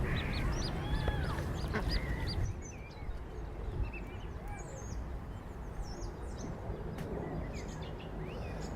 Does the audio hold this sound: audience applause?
no